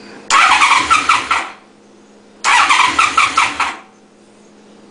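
Two separate starter-cranking attempts on a restored 1992 Honda VFR750 RC36 motorcycle, each a loud, close whirring churn lasting about a second before it cuts out, with no catch.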